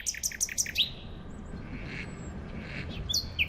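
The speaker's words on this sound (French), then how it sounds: "Le rossignol Philomèle" A common nightingale sings at night in Berlin, a fast run of bright repeated whistled notes followed by a pause and a sharper trill, heard over a faint low background rumble.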